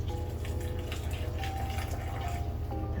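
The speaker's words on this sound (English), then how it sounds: "now I'm gonna pour the broth in" Broth pours into a bowl of shrimp and veggie ramen, a steady close liquid stream splashing and gurgling without pause.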